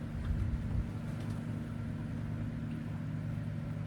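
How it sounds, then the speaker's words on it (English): A faint, steady airboat engine drone hums from a distance, low and continuous, with no voices. "Been a noisy airboat come by."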